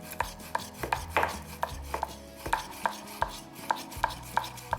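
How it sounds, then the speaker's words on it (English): A knife cuts pork into thin slices on a cutting board, a close, steady series of about fourteen crisp taps at an even rhythm, quiet and without talk. "So just slice the pork first into nice thin slices."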